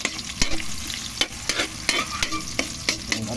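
Ginger and onion sauté in a hot pan for a mussel dish with moringa. A steady, close sizzle carries throughout, broken by regular scraping strokes of a spatula stirring roughly every half second.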